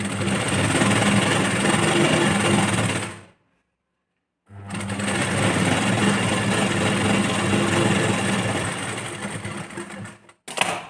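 A sewing machine top-stitches the lining of a blouse, running as a steady, loud, close whir that stops briefly and then starts again. It halts once more near the end.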